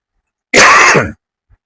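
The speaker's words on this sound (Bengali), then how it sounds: "কাশিটা হচ্ছে বারবার" A single harsh cough or throat clear, loud and close, lasting about half a second before silence.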